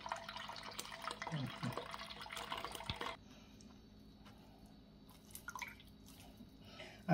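Backyard cherry juice dripping and trickling as the fruit is squeezed by hand, a soft wet splatter that is steady at first, then thinner, scattered drips, faint and close.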